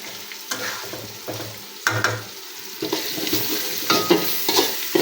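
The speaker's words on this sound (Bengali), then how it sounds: "এদিকে মাংসটা কষিয়ে নিচ্ছি বিরিয়ানির জন্য" Meat sautéing in a pot for biryani, with a close, steady oil sizzle broken by repeated scraping stir strokes of a spoon against the pot. No one speaks.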